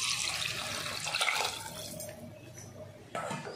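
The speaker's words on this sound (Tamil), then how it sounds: "இப்போ வந்து நம்ம புளி தண்ணி கரைச்சு வச்சிருக்கோம்ல அத சேர்த்துக்கலாம்." Tamarind water pours steadily into a pot of simmering Sankara fish curry, a soft continuous splash that thins out, then a short fresh gush near the end.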